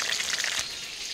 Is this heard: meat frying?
yes